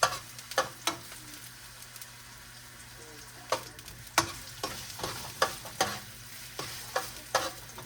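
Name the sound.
sautéing garlic and onion for pancit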